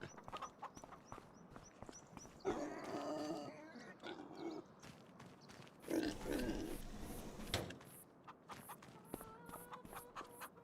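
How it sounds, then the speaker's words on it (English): Three-month-old pigs in Farming Simulator 25 grunt and oink in short bursts amid shuffling hooves, fairly quiet and moderately close. "Why are the baby pigs making full-grown pig noises?"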